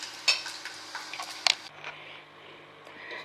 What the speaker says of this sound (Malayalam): ബാക്കിയുള്ള മല്ലിയും മുളകും ഉലുവയും കൂടി ഇട്ടിട്ട് വഴറ്റിയെടുക്കാം.